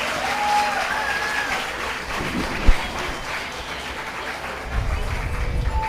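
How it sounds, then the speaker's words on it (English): Audience applause for children at a talent day performance during a culture camp, steady massed clapping filling the space with scattered children's voices and crowd murmur under it, and a brief thump partway through. "One more big round of applause for the little gems."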